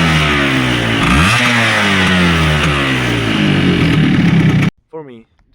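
A kick-started motorcycle engine revved hard, rising and falling in pitch through several throttle blips, loud and close, then cutting off abruptly, with a few words spoken right after.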